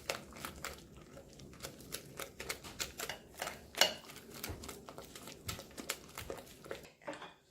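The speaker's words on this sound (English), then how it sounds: "we're gonna add to the flour mixture right here and butter. Yay! I'm gonna mix that in. I'm gonna try the whisk here first." Butter is whisked into a flour mixture in a bowl, producing a fast, irregular run of light clicks and taps of the whisk against the bowl, close and fairly quiet.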